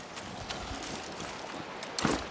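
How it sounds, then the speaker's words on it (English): Horse hooves clip-clop in the video game Far Cry 6, a quick run of soft, close hoofbeats on the ground with a slightly louder thump near the end, and no talking. "That's a good horse."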